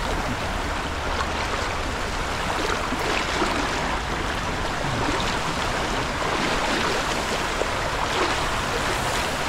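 Strong rushing river water, a dense continuous roar of current flowing steadily and loudly without pause.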